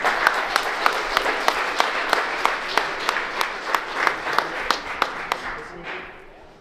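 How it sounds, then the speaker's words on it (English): An audience at a VR and live boxing event applauds in a steady, rhythmic clap, with regular sharp beats over a crowd wash that fades out at the end. "give a round of applause to everyone who's in this, whether the VR tournaments or the real boxers"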